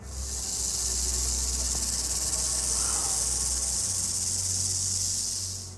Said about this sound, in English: With its intense buzzing sounds, the rattlesnake was generating a sense of fear in its surroundings.